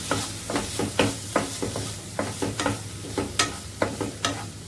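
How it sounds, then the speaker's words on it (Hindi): Finely chopped large tomato hits hot oil in a pan for paneer pepper Chettinad. A steady sizzle sits under repeated sharp, close scraping strokes of a spatula, roughly two per second, with no voices. "अब मैं इसमें डाल रही हूँ 1 लार्ज साइज का टमाटर, जो कि मैंने बारीक काट के रखा था।"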